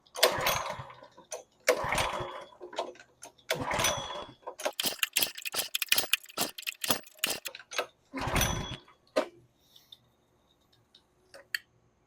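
A small gas engine on a pressure washer is pull-started with several loud, rough recoil-cord rips in short bursts, followed by quicker rattling ticks and a few fainter pulls, close by, with no talk.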